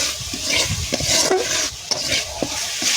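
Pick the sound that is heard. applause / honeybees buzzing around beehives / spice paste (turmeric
spice paste (turmeric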